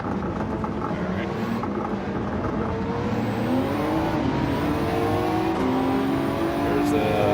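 A race car engine in Gran Turismo 7 during the 6 Hours of Suzuka, short shifting to save fuel: a steady, loud engine drone with rising pitch sweeps as the car accelerates through gears, continuous throughout.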